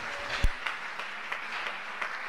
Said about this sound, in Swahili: Makofi hasa mazuri